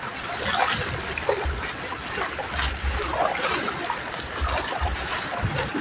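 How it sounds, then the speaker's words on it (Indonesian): Floodwater about a meter deep surges through a flooded neighborhood in Bekasi at night, a steady rushing and splashing wash with occasional low thumps. "tempat saya lagi banjir ini"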